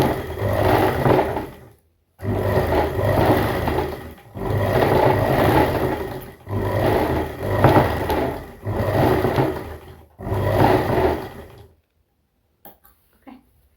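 A sewing machine stitches a pant seam in six rapid whirring bursts of a couple of seconds each, separated by brief stops, close and loud, then falls quiet apart from a few small clicks.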